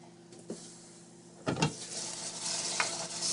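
Flank steak stir-fried with Chinese broccoli sizzles in a hot pan as it is stirred, with a faint start, then bursts of scraping and stirring over a steady frying hiss.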